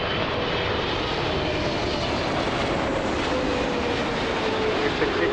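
A jet airliner on its takeoff roll on runway 05 at Toronto Pearson roars loud and steady with a slowly shifting engine whine, while radio chatter runs underneath.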